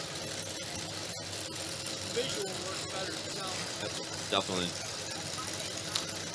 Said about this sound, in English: Listen to them motors. I mean, just all of them cammed out.